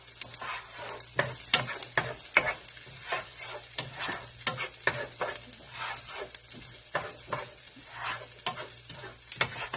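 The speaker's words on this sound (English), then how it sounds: "I'm just going to stir it for about a minute." Minced garlic frying in a pan while being stirred, a constant close sizzle punctuated by rapid, regular scraping strokes of the utensil against the pan, with no talking.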